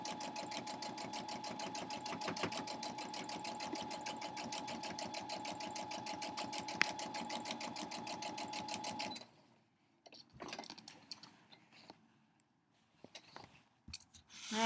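A sewing machine stitches fleece with black thread, a fast steady rhythmic chatter of the needle running close for about nine seconds, then it stops and a few soft handling noises follow.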